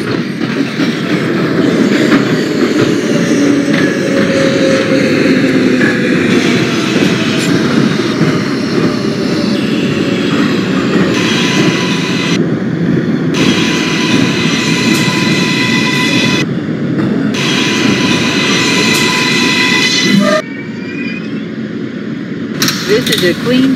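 An R143 subway train on the J line in OpenBVE runs loud and steady, wheels rumbling and clacking over the rails, with brief bursts of brighter noise as it rolls along.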